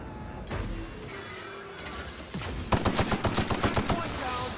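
Rapid suppressed pistol fire in The Outer Worlds video game, a quick regular series of about ten muffled shots in the second half, following quieter mechanical clicks and game noise.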